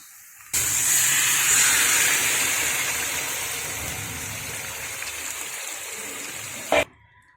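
Chicken with fried onion, coriander powder and cumin powder sizzles in a pan, a loud steady hiss starting abruptly and fading slightly before a short clatter near the end.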